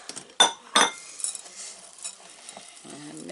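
A spoon stirs chocolate chips into thick no-egg, no-bake cookie dough in a bowl, with two sharp scraping clinks early on, then softer continuous mixing and scraping close by.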